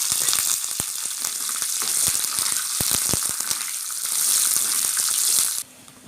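Curry leaves dropped into hot oil with mustard seeds and dried red chillies, giving a loud, close, crackling sizzle with sharp pops that stops abruptly near the end.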